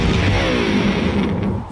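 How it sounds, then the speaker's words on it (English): An electric guitar thrown off a 20-story building smashes in a loud, dense crash with ringing string-like tones decaying through the noise. "An electric guitar."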